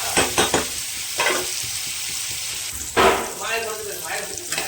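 Chopped tomatoes and green chilies fry with softened onion in a pan for Kashmiri aloo dum, a steady sizzle broken by a few scraping stirs, heard close up.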